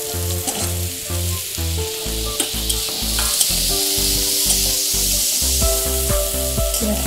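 Chopped onions hiss and sizzle steadily in hot oil with bay leaf in a wok, stirred with repeated scraping; a rhythmic low-pitched background beat runs throughout alongside the continuous frying.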